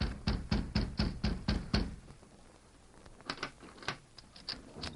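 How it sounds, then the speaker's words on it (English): Sharp knocks on a hotel room door in a radio drama, a quick run of about six loud raps followed after a pause by a few scattered lighter taps. "the Lone Ranger signaled to Tonto to knock"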